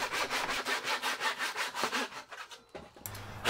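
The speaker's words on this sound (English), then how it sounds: "cut a 45 degree bevel on one of the corner pieces." A handsaw cuts a 45 degree bevel on a wooden skirting board, with about a dozen close, rhythmic back-and-forth rasping strokes that slow and stop, followed by a brief clunk and handling noise.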